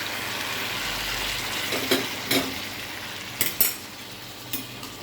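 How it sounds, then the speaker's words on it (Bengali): Food is stirred in a kadai with a little water over a soft, steady sizzle, as a spoon scrapes and knocks against the pan in several distinct strokes, loudest near the middle and end. "আমি ভালো করে নেড়ে নিয়ে দেখাচ্ছি।"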